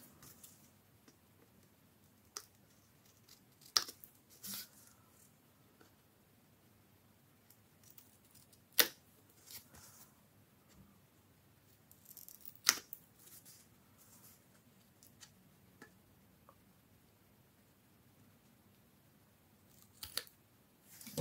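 Small scissors snip off protruding bits of paper on a handmade advent calendar, a few quiet, sharp, isolated clicks scattered widely over a near-silent background.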